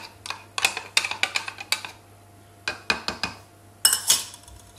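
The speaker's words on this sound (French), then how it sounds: "je vais remuer jusqu'à ce que le mélange soit complètement homogène" A utensil taps and clinks in a bowl while stirring a homemade hair balm of beef marrow and sunflower oil, giving close, irregular bursts of light scraping and clinking with quiet pauses between them.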